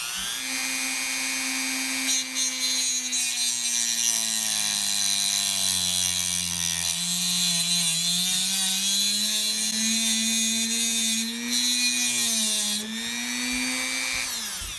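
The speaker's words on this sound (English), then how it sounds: "So let's go to work with the Dremel cutoff wheel." A Dremel cutoff wheel grinds into a stripped screw on a Thunder Tiger Tomahawk VX nitro RC chassis, a steady high-pitched whine with a droning motor tone that wavers in pitch as the wheel bites, loud and continuous throughout.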